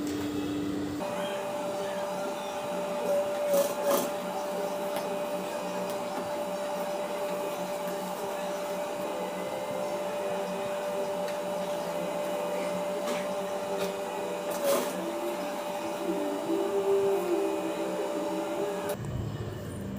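A sewing machine runs steadily while stitching a Patiala pant, making a continuous whirring drone for about twenty seconds, with a couple of brief clunks and no voices.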